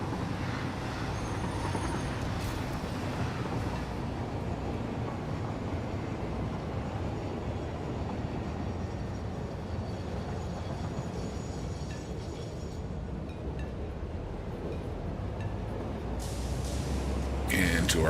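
A train in the Satisfactory video game rolls steadily along its tracks with a continuous rumbling, clattering drone that stays even and fairly loud throughout, with a voice speaking over it.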